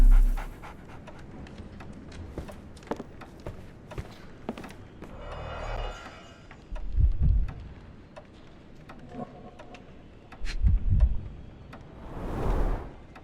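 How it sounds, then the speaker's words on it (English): A dog in a Sherlock Holmes video game pants in quick, close bursts, the rhythm rising and falling between quieter moments, with a few faint clicks and creaks in the background. "So, Barnes has a dog now. Who's a good boy?"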